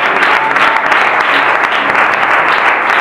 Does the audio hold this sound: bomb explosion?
no